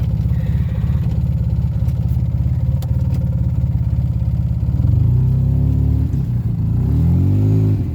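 A 2010 Polaris RZR 800 side-by-side with a Boondocker turbo idles with a fast, loud, close rhythmic putter, then revs up and settles again as it backs up, with no talking.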